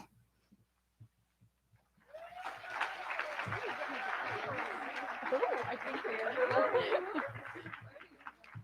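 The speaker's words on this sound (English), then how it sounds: "Please join me in one more round of applause for these 9 students who are our honor graduates" Graduation crowd applauding nine honor graduates at a high school ceremony, with a quiet lead-in before sustained, dense clapping that swells gradually and stays steady to the end, under faint scattered voices.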